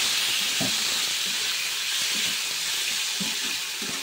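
Spices sizzling and frying in a pan for an okra (bendi) curry, a steady hiss of hot oil with faint clinks and stirring scrapes underneath.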